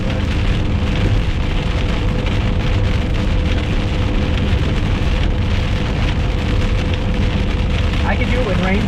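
Heavy rain pours in a dense, constant hiss during a storm chase in southern Oklahoma, loud and close throughout with no letup.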